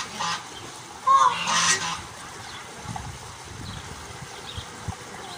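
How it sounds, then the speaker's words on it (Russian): Geese honking at an open farm that also keeps peacocks, with a short loud burst of calls near the start followed by quieter scattered honks over faint background noise. "Гуси-гуси, га-га-га. Есть хотите?"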